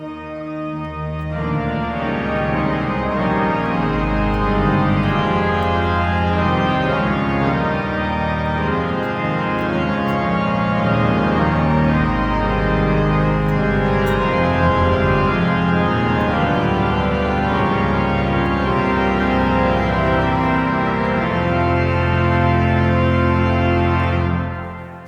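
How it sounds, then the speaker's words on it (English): Full, loud Aeolian-Skinner pipe organ, full swell coupled to great principals 8, 4 and 2, sustaining rich chords that shift steadily for about twenty-five seconds, with no voices. "That's the sound of the full swell coupled to the great principals 8, 4, and 2."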